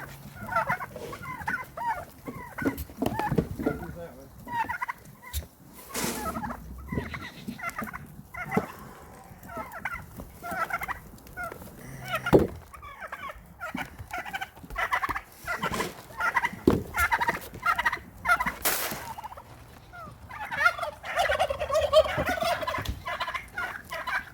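Turkeys gobble in repeated bursts throughout, a flock calling at moderate distance during feeding at an animal rescue farm, with louder clustered gobbling toward the end.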